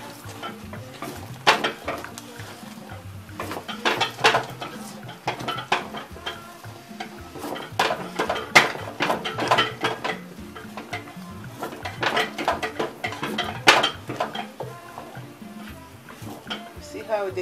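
A spoon scrapes and knocks against a pot of pepper sauce as it cooks, in repeated irregular bursts of stirring over a soft simmering sizzle.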